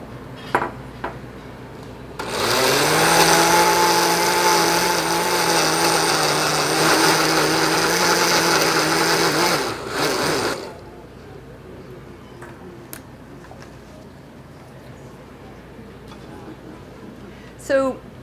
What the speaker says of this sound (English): most blenders are just not strong enough and fast enough to pulverize the cashews